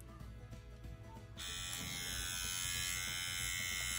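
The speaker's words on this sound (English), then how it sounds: "as you all can hear, the machine's pushing the Stigma cartridge just fine" A tattoo machine driving a Stigma 9-round shader cartridge gives off a continuous close electric buzz, which steps up into a brighter, louder steady hum partway through and holds there.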